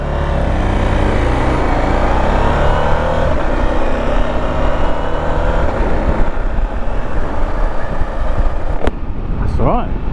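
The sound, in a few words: KTM 890 SMT motorcycle exhaust note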